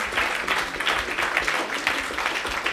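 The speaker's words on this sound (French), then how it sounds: "On peut l'applaudir." Audience applause for a woman business leader after her talk: dense, continuous clapping from a crowd, fairly close and sustained, with no voices over it.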